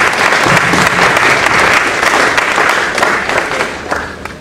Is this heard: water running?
no